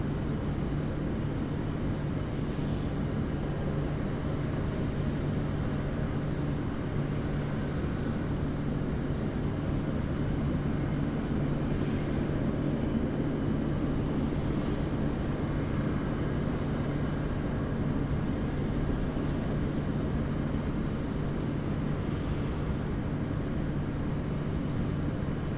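A jet airliner idles on the ground at Sydney Airport while preparing for takeoff, its engines producing a steady, continuous rumble with a faint high whine, heard at moderate distance without any talking.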